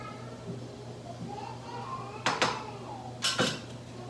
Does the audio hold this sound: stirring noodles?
yes